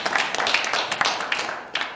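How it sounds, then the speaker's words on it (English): A workshop audience applauds together, a burst of many hands clapping fairly close, dense and steady for a couple of seconds before tapering off, with no one speaking over it. "I think you can give yourselves a round of applause"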